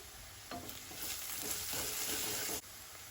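Asafoetida being stirred into hot oil in a pan while cooking palak matar, a steady close sizzle with a few scraping stirs of the spoon.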